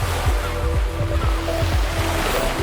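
AI-generated ocean waves for a beach scene: a dense, continuous wash of surf with rhythmic low swells rolling in and a steady hiss of spray, loud and full throughout.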